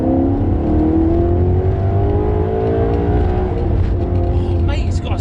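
Maserati V8 with a 7,000 RPM redline revving hard, a loud, close engine note that rises in pitch and then eases off, with a voice talking over it toward the end.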